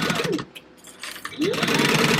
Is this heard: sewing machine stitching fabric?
yes